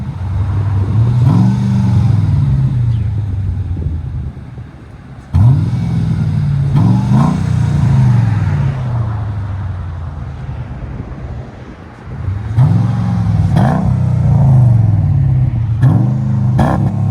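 A 2005 Mercedes CLK 55 AMG with a 5.5-litre V8 and its muffler removed, revving loudly and repeatedly in bursts that rise and fall, with a deep, raw exhaust tone and wind noise over the microphone.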